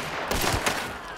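Gunfire in the video game Hunt: Showdown, a few sharp close shots cracking out one after another in a short burst over a steady background hum.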